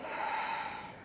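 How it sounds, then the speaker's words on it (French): A single forceful nasal exhalation from Kapalabhati yoga breathing, a short, breathy snort-like rush of air heard close and alone. "fais une démonstration avec quelques Kapalabhati"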